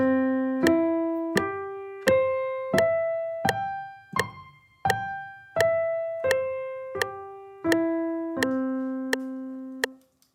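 A piano plays a sequence of clean, bright notes rising and falling in steady, evenly spaced arpeggios at 85 BPM, each note ringing briefly before the next.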